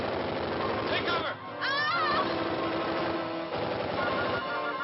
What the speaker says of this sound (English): That machine gun fires wooden bullets.